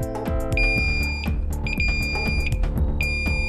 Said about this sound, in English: then I can see if my hand will set off the light alarm.